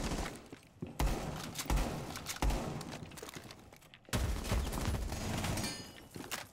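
Gunfire bursts from the tactical shooter Rainbow Six Siege, loud, close and dense, coming in two long volleys split by a brief gap, with sharp impacts and rattling shots and no voices.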